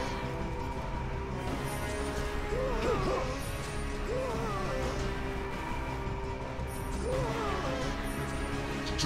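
A dog barking in the Defendion video game: a few sharp yips and barks spaced out over a steady game backdrop of music and clatter, moderately loud.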